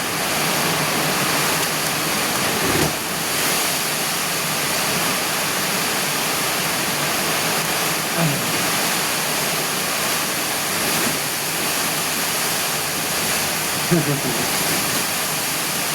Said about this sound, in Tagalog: malakas ang hangin at malakas na ulan